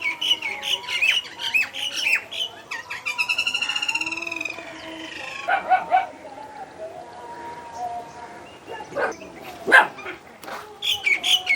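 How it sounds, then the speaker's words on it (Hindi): Harsh crow caws ring out in short bursts, some repeated quickly in a rapid series, with other birds and a distant dog bark mixed in outdoors on a village morning. "यहाँ पर कौवा बैठा हुआ है"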